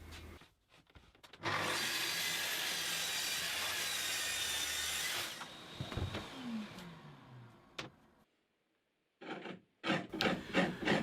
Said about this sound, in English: as the rasp was so successful last time, I'm trying it again, creeping carefully up to, but hopefully not over, the scribe line